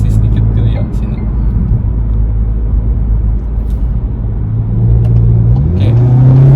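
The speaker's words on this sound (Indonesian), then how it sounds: "Kita coba akselerasi sedikit dulu ya di sini." A car accelerates on a German Autobahn with no speed limit. The engine drones loudly inside the cabin with a deep, steady rumble, and the pitch rises near the end. People talk inside the car.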